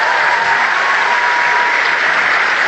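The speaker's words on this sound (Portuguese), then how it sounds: "Uma salva de palmas para todos vocês." A large theatre audience at a concert in Londrina claps loudly and steadily, a dense continuous wash of applause with no voices standing out.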